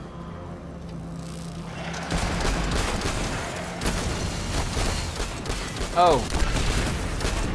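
Rapid turret fire rattles in bursts during a Destiny 2 battle, dense and fairly loud, with a short voiced exclamation and a brief tonal effect partway through.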